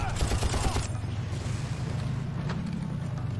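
Gunfire in the shooter game Far Cry 1, a dense rattle of shots in the first second, then a low steady rumble with faint scattered reports.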